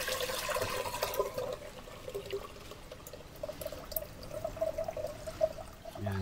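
Rice-washing water is poured into a clay pot, making a continuous gurgling, splashing stream up close that holds steady for several seconds and ends in a short knock at the finish.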